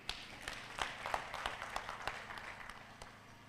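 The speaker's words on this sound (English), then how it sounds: "we clap for them." An audience at a regional business and investment symposium claps to welcome visitors, a modest scatter of individual claps fading out over a few seconds, fairly distant and soft.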